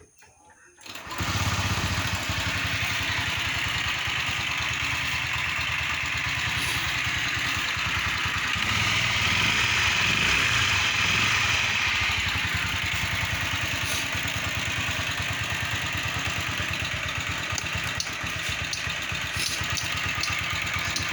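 A Japanese Dio scooter with 217 km on it starts after a brief click, then idles steadily with a buzzing, slightly clattery small engine note, close and continuous for the rest of the clip.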